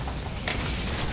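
A deep grenade launcher explosion booms in the World War II shooter game Call of Duty 2, a sudden burst rising out of a continuous low rumble of battle noise.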